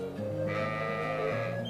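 Sheep bleating in the video game Trails of Cold Steel, a single drawn-out wavering bleat, close and clear, with layered tones shifting partway through.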